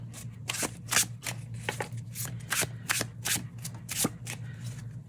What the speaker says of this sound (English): But you can do a dealer shuffle and you see how well